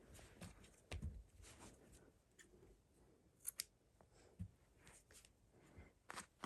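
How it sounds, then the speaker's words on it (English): Scissors snipping red yarn during a crochet project, a few faint, close, crisp clicks and cuts scattered over a quiet room. "you can just cut this red yarn because we don't need it anymore"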